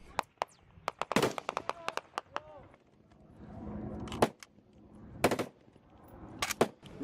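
Gunfire in a combat firefight in Afghanistan, with bursts of sharp cracks and rapid automatic fire, some close and loud, others more distant, and voices heard faintly between the shots.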